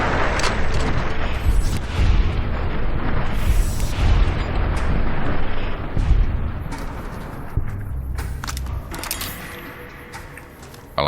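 Enemy gunfire and booming shots in the Fallout Tale of Two Wastelands game, dense and loud bursts packed closely over eleven seconds, with a brief quieter lull near the end before a final blast.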